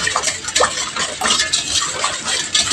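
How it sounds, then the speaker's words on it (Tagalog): Evaporated milk and sugar stirred together in a bowl for cassava cake, steady scraping and clinking of a utensil with soft liquid swishing in a continuous, even rhythm. "I-mix lang natin until na matunaw yung sugar."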